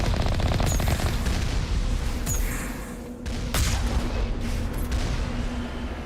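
Turret gunfire from the Mako vehicle in Mass Effect, dense rapid bursts of shots with booming impacts running almost continuously, loud and close, with a brief dip near the middle.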